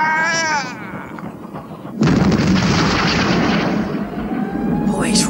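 A cannon fires from a munitions ship, giving a sudden loud boom after a tonal whistle, then a long roaring rumble that stays loud and dense, with brief voices near the start.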